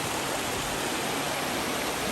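Steady, dense rushing of cold river water flowing continuously in rainy weather, close and loud with no pauses.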